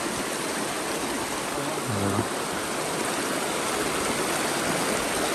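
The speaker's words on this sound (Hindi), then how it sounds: "तालाब पूरा बह करके पानी तालाब का बाहर निकल रहा है" Water pours out of an overflowing village pond as a steady, close rushing flow, a dense continuous wash with no pauses throughout.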